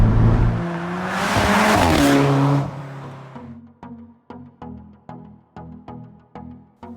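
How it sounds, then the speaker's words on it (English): Alfa Romeo 4C Spider revving hard with a rising engine roar, then a series of sharp, evenly spaced pops and crackles from the exhaust, loud and close. "the pops that you get on the upshifts are just incredible"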